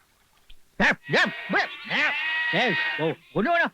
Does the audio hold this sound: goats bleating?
yes